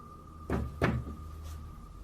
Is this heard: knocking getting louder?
yes